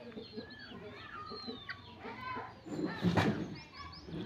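Two village hens cluck close by, a run of soft repeated clucks with a louder burst near the end, under light background noise.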